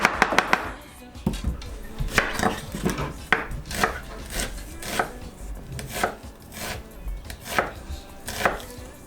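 An onion being chopped on a board for rice, a brisk series of sharp knife thuds at a steady rhythm, close and loud with no voices.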